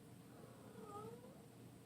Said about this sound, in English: It's a Bengal, so she is more vocal than your average cat anyways